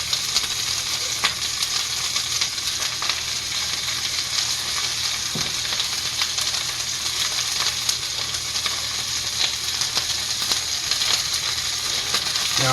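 Onions and garlic sizzle steadily in a hot pan for a bacon, sausage, pepper and onion dish, with a continuous close frying hiss, occasional stirring scrapes and no talk.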